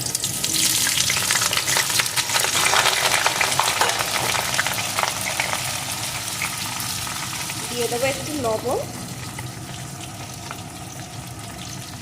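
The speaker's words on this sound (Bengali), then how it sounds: "এখন তেলটা গরম হয়ে গেছে এখন এর ভিতরে আলু পটলগুলোকে দিয়ে প্রথমে ভালো করে ভেজে নেবেন" Potato and pointed gourd pieces fry in hot mustard oil with a loud, continuous sizzle and crackle close up. Someone speaks briefly partway through, and the frying noise settles slightly toward the end.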